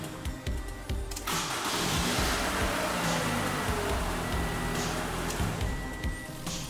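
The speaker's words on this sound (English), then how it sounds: "The Camry started 10 times over consecutively" A 2017 Toyota Camry cranks and starts off a motorcycle battery, a brief whirring crank giving way to a steady, close idle hum with a slight rev.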